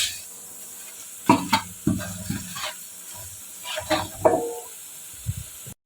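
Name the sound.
stirring whole garam masala into onions in a pot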